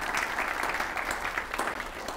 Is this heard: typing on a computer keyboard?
no